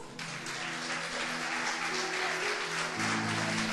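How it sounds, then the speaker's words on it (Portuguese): A church congregation claps together in a sustained, even wave of applause that swells slightly toward the end, with a low musical hum from instruments continuing underneath. "Pode aplaudir o Senhor"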